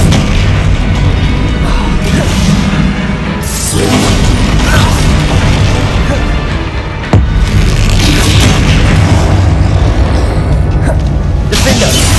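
Bombarda spell explosions in the game Hogwarts Legacy, heavy booming blasts and crashing debris filling the clip loudly with a sharp impact partway through, while a voice shouts over the din.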